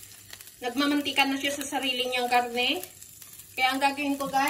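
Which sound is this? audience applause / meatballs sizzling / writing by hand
meatballs sizzling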